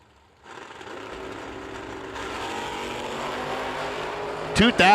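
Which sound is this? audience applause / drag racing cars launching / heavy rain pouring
drag racing cars launching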